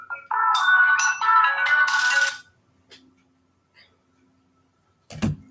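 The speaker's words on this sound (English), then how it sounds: "I'm getting all these phone calls now" Phone ringtone from an incoming call, a bright electronic melody ringing loudly for about two seconds, then a short quieter chirp and a sharp click near the end, with no one talking.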